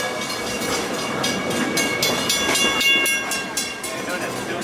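The Walt Disney World Railroad train rolls toward Frontierland Station, wheels clicking rhythmically over rail joints in a loud, steady rumble, with a faint tonal hum and some background voices.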